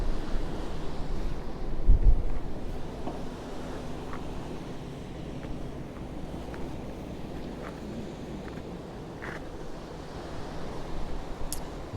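Turbulent sea waves roll onto Portals Nous beach in Mallorca, a steady broad wash of surf with gusty wind noise across the microphone and no voices.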